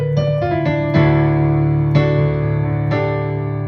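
Piano phrase from a worship song, a few sustained notes and chords struck one after another with a quick grace note, ringing clearly and alone with no talking.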